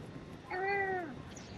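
A single drawn-out cat meow rises clearly over a quiet indoor background, heard live in the room during an online Fortnite session.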